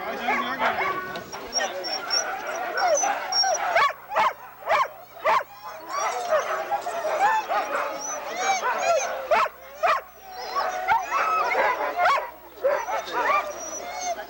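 Sled dogs at the starting line of the Fort Kent Can Am race in 1995 bark, yip and whine excitedly in repeated bursts, close and loud, while people talk nearby.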